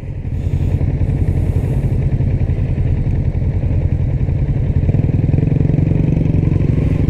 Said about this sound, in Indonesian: Berhenti belakang motor orang eh.